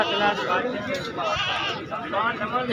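Goats bleat repeatedly at a livestock market, wavering calls close by amid a busy crowd of voices talking over them.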